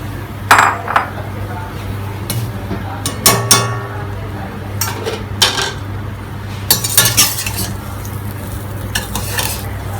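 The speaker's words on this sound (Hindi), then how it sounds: "तो अब इसी तेल में घी में हम जो है अपनी सेवइयों को फ्राई करेंगे।" Vermicelli frying in ghee and oil in a pan, a steady sizzle under repeated scraping and clinking stirs of a utensil against the metal, close and fairly loud.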